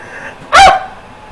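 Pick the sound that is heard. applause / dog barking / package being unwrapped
dog barking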